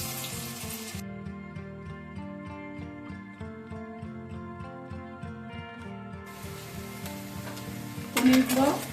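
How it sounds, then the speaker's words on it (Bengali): Paneer pieces fry lightly in hot oil, a steady sizzling hiss that swells at the start and again toward the end, partly masked by tonal background music. "পিস পিস করে কেটে নিচ্ছি। এগুলোকে হালকা আমি ভেজে নেব।"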